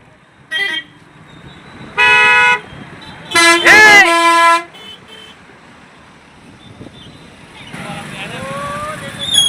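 A bus drives past on a road, sounding loud horn blasts in several bursts, the longest a double honk, followed by the rumbling swell of the passing vehicle close by.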